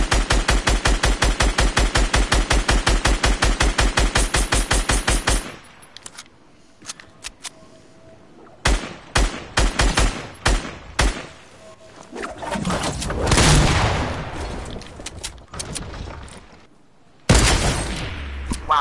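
Rapid automatic gunfire from a multiplayer shooter in a duo tournament match, a fast steady burst up front, then scattered single shots, thuds and a louder rumbling blast, with brief silent gaps between.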